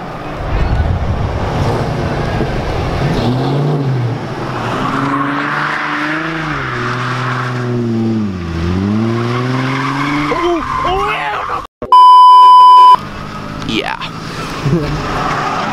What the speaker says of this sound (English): Now you gotta get some shots on the drifting